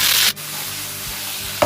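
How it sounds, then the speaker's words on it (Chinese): Sliced luffa stir-frying in a wok with oil, scallion and ginger, a short hissing sizzle that drops suddenly, then a quieter simmering crackle and a brief scrape at the end. "丝瓜下锅，"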